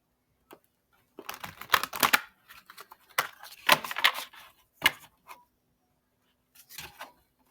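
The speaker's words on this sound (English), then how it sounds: "so I guess I'll shuffle these." A deck of tarot cards, a light and dark deck, is shuffled close by in several short bursts of rapid papery flicks separated by pauses, with no speech.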